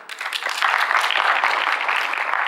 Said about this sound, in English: A big round of applause for the Industry Interaction Committee for making this event a huge success.